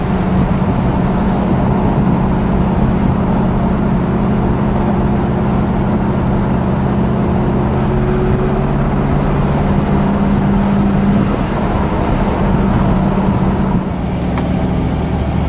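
A red 1964 Chevrolet Impala SS with a 409 engine and four-speed, heard from on board on an open road: a steady, loud engine drone, with the pitch rising a little as it pulls ahead.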